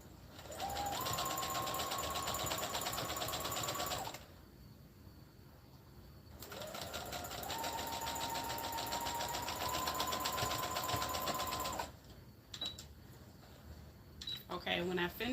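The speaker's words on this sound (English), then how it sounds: "I'm going to go from here to here with a straight stitch to close that part out" Sewing machine running a straight stitch to close a fabric headband, a steady fast whirring hum in two long runs separated by a pause, with a rising motor pitch, ending in a few clicks and handling sounds.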